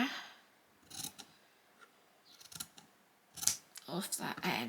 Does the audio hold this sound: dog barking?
no